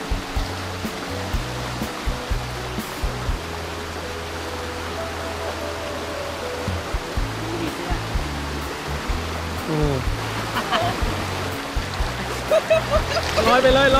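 Steady rushing noise of the Chet Si waterfall in Bueng Kan, Thailand, fills the scene, with people talking over it and some rhythmic low background sounds.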